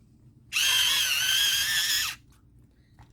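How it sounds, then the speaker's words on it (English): An electric pencil sharpener grinds a pencil in one loud, high whining burst of about a second and a half, then cuts off into near silence. "Love that pencil sharpener."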